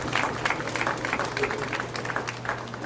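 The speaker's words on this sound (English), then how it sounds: "let us give Mrs. Indira Sajuan Ali another round of applause" Applause at a breakfast forum in Trinidad and Tobago, a room of people clapping for a speaker, moderately soft and even with a faint steady hum beneath.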